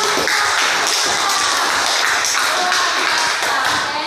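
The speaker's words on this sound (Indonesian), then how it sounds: "Baik, tepuk tangan." A classroom audience claps for a group after its presentation, a dense, steady patter of many hands that runs loud and close for about four seconds.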